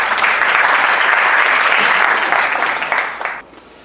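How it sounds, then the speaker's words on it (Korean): Loud, dense applause from a lecture audience welcoming a high school teacher to give a talk on university admissions for sports majors, sustained for about three seconds before cutting off abruptly. "큰 박수로 환영해 주시기 바랍니다."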